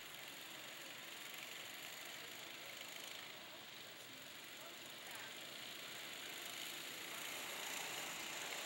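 Go-kart engines accelerate during a qualifying race at a kart championship, a fairly distant, continuous buzzing drone that swells and eases as the karts pass.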